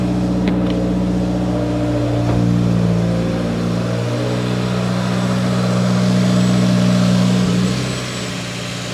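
A car with an FA20 engine idles steadily just after startup, a loud, close, continuous low drone with faint mechanical ticking throughout.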